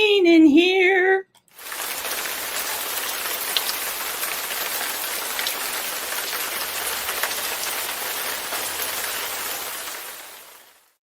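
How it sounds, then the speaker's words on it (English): Steady rain falling on a surface, a dense even hiss lasting several seconds after a short burst of other noise at the start, with no talk over it. "It is raining in here."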